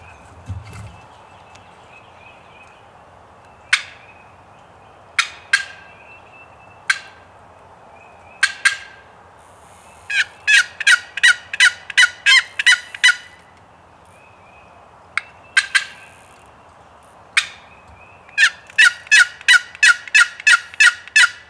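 Wild turkeys gobbling in the woods during opening-day hunting, scattered single calls and several rapid rattling gobble bursts, clear and moderately close over quiet background, with no talking.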